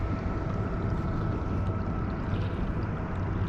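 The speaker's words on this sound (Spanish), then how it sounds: "Parece conocida la lanchita esta. Si es 4 motores. Ah no, 2." A small motorboat with two outboard motors passes close by on open water during a fishing trip, giving a steady, loud, broad engine and water roar that fills the whole stretch without pause.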